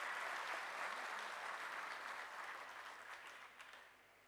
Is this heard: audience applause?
yes